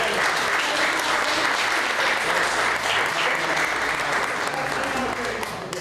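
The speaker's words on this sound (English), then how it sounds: "All right, let's give them another round of applause." Steady, full audience applause filling a school board meeting room, dense continuous clapping that holds evenly before easing slightly at the end, with a voice faintly mixed in.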